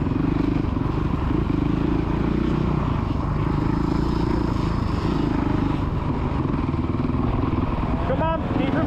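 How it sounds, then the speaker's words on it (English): A child's motocross bike revs steadily on the Astley MX main track, a loud continuous engine drone with no break, while a voice calls out over it. "That's it, rev it up, rev it up. Keep them on, keep your revs on."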